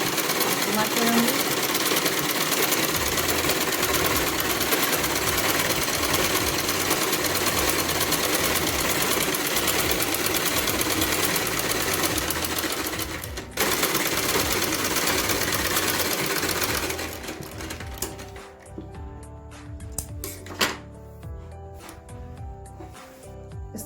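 A sewing machine stitches a curved seam on a salwar, running loud and steady for a long stretch, briefly pausing, then continuing in shorter bursts near the end.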